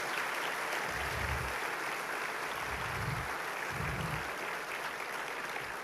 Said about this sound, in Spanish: Un aplauso a todos los que trabajaron porque es tremendo.